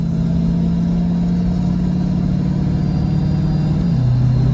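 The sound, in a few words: Ford 6R140 transmission car shifting gears under no throttle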